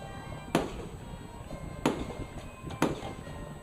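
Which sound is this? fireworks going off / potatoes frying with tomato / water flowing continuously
fireworks going off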